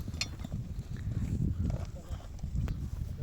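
A light, quick riding horse makes irregular clip-clopping hoofbeats at close range, with some faint talk nearby.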